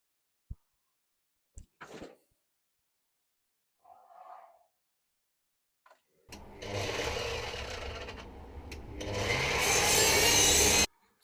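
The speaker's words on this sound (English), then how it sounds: "let's take it over to the saw" A power saw cuts wooden bed slats: a few sharp knocks and handling noises come first, then a close whirring cut of about three seconds that rises into a louder, harsher cutting burst before it stops.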